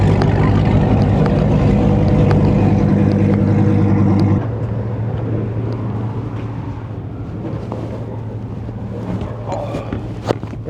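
A car at a Toronto roll racing event pulls hard in second gear, its engine a loud sustained roar with steady harmonic drone that shifts partway through and continues with rushing wind noise.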